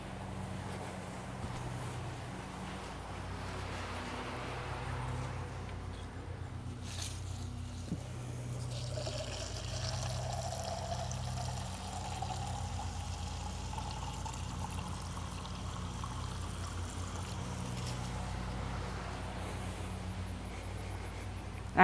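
Myco water is poured into a Monstera plant pot, a soft continuous splashing and trickling with low background rumble, fairly close and steady for the whole stretch.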